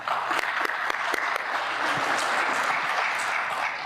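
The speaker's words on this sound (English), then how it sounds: "Please join me in giving a round of applause to our incredible community partners" A civic audience at a city's State of the City address applauds steadily for several seconds, a dense wash of clapping with a few sharper claps standing out.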